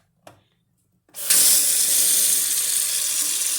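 Water poured for a salt, sugar and water snow-making experiment: after a brief tap and a second of silence, a loud, steady splashing stream starts and runs continuously to the end, close to the microphone.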